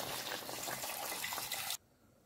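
Water pours steadily into a pot of boiling turkey stock, a close, even gushing splash lasting under two seconds before cutting off abruptly.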